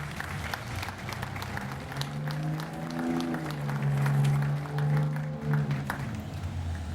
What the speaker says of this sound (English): Let's please give a round of applause also to the soldiers from the New Jersey Army National Guard